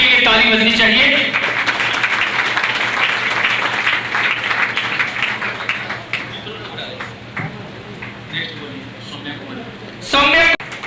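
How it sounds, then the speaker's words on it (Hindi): Audience applause at an award ceremony held by a newspaper to honour student toppers, a loud sustained crowd clapping after speech at the start, fading toward the end before a brief burst near the close. "ताली बजनी चाहिए।"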